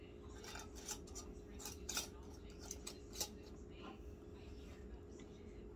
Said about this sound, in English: take your lids and your rim, and you put it on your jar